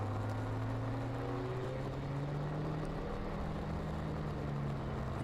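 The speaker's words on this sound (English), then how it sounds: "You can hear the revs pick up a little bit on the Porsche Boxster" Porsche Boxster race car engine at an endurance race, a steady mid-distance drone with rising harmonic lines as the revs climb gradually, heard alone without talk.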